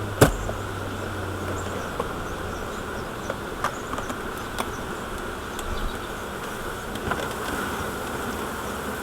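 A dense, steady drone of an agitated bee swarm buzzing together, loud and continuous, with occasional individual insects zipping close past.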